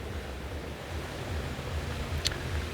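Ocean waves washing onto Tri Trang beach near Patong, a soft continuous surf wash heard from a short distance, with light wind.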